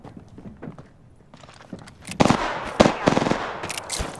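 Gunfire in the video game Apex Legends, with scattered sharp shots that grow louder and denser midway, mixed with footsteps and game sounds.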